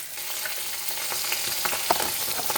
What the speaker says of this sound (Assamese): মই কেৰাহীত মাছখিনি দিছোঁ, মাছ ভাজি আছোঁ।